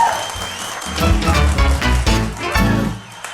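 Studio audience applause on a game show, a dense wash of clapping that swells and then fades out, with music or voices underneath.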